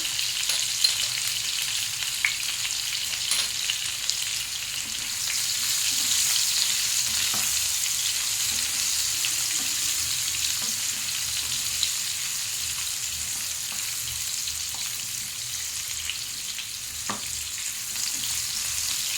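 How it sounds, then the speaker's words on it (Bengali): Potatoes fry in oil with turmeric, a steady bright sizzle and scattered pops and crackles, occasional stirring scrapes, no voices. "আলুটা একটু লাল লাল করে ভাজতে হবে"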